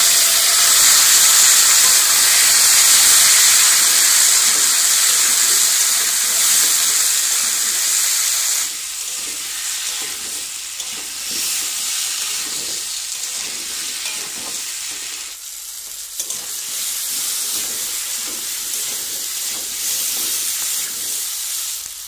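Diced potatoes fry in a pan for a rohu fish curry with cauliflower, giving a steady close sizzling hiss that runs throughout, louder at first and then settling to a softer, even crackle with no talking.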